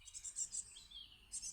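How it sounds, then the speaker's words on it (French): Baby birds chirping by a garden pond used by birds for bathing, with high, thin, rapid chirps in short bursts at close range and no talk. "Vous entendez les petits bébés là."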